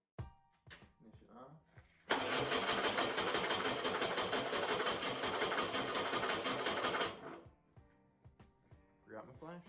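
A flathead engine cranks over and catches, its dense rapid chugging running steady for about five seconds under light talk before cutting off.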